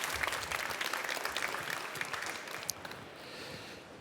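Audience applause at a start-up pitch event on a trade fair stage, a dense, steady clapping from a moderately distant crowd that thins out and fades toward the end.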